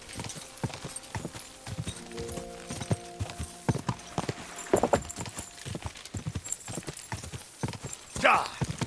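Horse hooves clip-clop in the medieval role-playing game Kingdom Come: Deliverance II, a steady stream of close hoofbeats running the whole time beneath sustained music tones and some voices.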